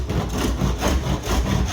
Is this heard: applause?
no